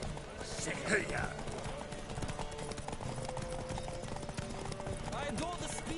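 Quick, rhythmic hoofbeats of a galloping horse in the video game The Witcher 3 clatter steadily under a brief shout and some game sound effects.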